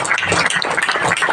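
Audience at a Gondwana Gondiyan community gathering in Assam clapping to welcome a guest, a dense, steady patter of many hands throughout the short stretch.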